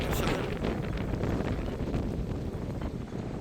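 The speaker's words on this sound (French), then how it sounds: "Ah, le vent!" Strong wind gusting during a mountain thunderstorm in the Belledonne massif, a loud, continuous buffeting roar battering the microphone.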